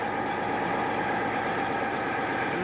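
A fire truck engine under automatic pump control holds a steady, loud idle-like drone as it comes up in speed, with a continuous low rumble and no voices.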